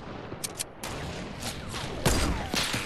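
Fortnite weapon fire, a few sharp shots and cracks over a steady game background, fairly close and loud.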